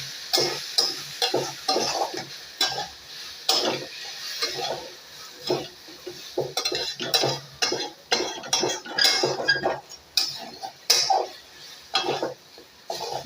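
Potato and soybean paste is stirred and fried in a pan for a soybean rezala, with a spoon scraping and clinking in steady close strokes over a soft sizzle.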